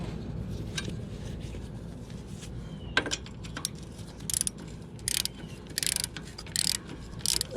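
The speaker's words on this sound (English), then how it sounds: "Yeah, it works better with the ratchet on." Ratchet wrench clicking during an oil change on a 2014 Harley-Davidson, with several short bursts of rapid ratcheting near and fairly loud over a low background rumble, with a sharp metallic knock midway.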